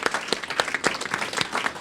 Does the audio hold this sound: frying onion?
no